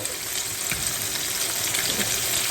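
Large tomahawk pork chops deep frying in hot oil, a dense, loud, continuous bubbling sizzle that holds steady throughout without voices.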